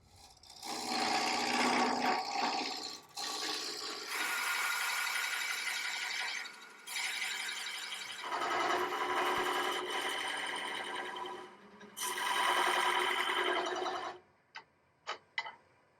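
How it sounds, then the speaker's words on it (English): Bubinga blank spinning on a wood lathe with a tool cutting into it, bursts of loud rasping cutting sound separated by brief pauses, ending with a few sharp isolated taps. "let's start the lathe and get turning"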